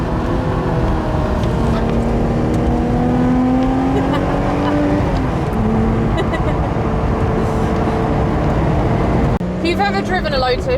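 A 2017 Lotus Exige 350 Sport engine drones loudly from inside the cabin while driving through corners, pitch rising and falling with throttle, then a sharp gear change near the end; a person talks over it.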